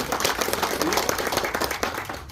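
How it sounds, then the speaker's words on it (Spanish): An outdoor community gathering's audience claps in a loud, dense round of applause, with voices mixed in among the crowd. "Les pido un aplauso fuerte para todos."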